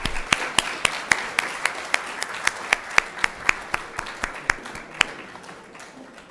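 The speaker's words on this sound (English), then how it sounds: "I think they deserve a big round of applause one more time" An audience applauds at a university conference's valedictory function. The clapping is steady and evenly spaced, with distinct individual claps standing out rather than a dense roar. It is fairly close and carries on without talk.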